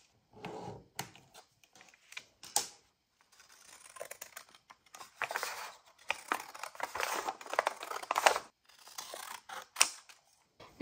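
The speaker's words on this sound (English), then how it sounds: "I'm just going to cut out a piece here, which is a little bit smaller than my piece of fabric here." Scissors snip through a piece of fabric for a junk journal cover, a series of crisp, close cuts in bursts with short pauses between them and no voices.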